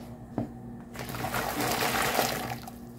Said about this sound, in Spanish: vamos a poner el agua caliente. Va a ser litro y medio de agua bien caliente.